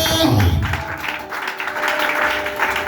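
Church congregation answers a preacher with acclamation, a brief swell of clapping and cheering voices that fades after the first moment into scattered applause.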